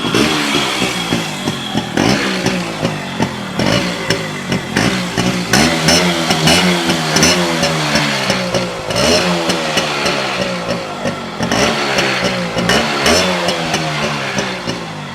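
A Yamaha RX motorcycle engine is revved repeatedly close up, its loud, raspy buzz rising and falling in quick bursts over a steady idle, with no talking.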